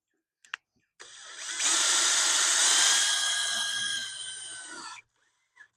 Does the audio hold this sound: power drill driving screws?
yes